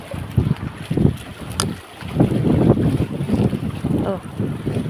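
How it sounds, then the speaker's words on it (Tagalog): Gusty wind buffeting the microphone in heavy low rumbles that rise and fall, with a brief lull in the middle. "Pasensya na kayo kung hindi masyado magandang kuha gawa ng Hangin"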